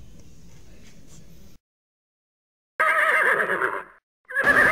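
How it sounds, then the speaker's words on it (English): Horses neighing: two loud, close whinnies separated by a silent gap, following faint low rumbling. "horses, standing upright and communicating"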